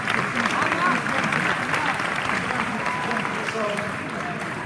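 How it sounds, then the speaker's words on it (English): A graduation ceremony crowd gives a round of applause for a volunteer, a broad wash of clapping that holds steady and slowly fades. "Let's give them a round of applause."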